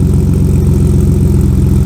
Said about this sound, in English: Exhaust note is more smooth in a way